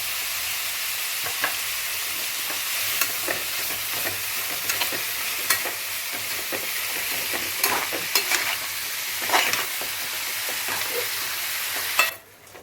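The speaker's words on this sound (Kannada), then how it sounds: "ಮೀಡಿಯಂ ಫ್ಲೇಮಲ್ಲಿ 10 ನಿಮಿಷ ಹುರ್ಕೊಳ್ಳಿ." Ridge gourd pieces for chutney frying in a pan on medium flame, a steady bright sizzle with intermittent stirring scrapes close up, ending with a brief clatter; no talking.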